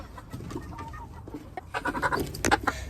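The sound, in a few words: rooster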